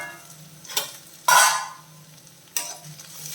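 Bitter gourd sautéing in a pan, with three sharp bursts of stirring and sizzle standing out over a quiet low background, close and brief.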